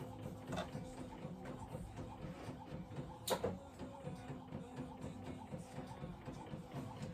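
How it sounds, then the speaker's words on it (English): Inkjet printer feeding premium matte paper with pigment ink, a faint, steady mechanical whir with repeating carriage passes and one sharp clack partway through, no talking. "let that get out of this damn printer"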